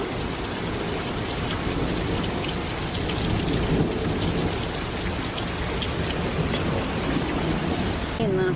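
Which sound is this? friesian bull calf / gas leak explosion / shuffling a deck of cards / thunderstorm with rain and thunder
thunderstorm with rain and thunder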